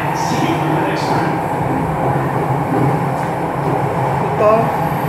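A Jakarta MRT subway train runs with a steady loud rumble and hiss inside the carriage, faint clicks and squeals rising near the end.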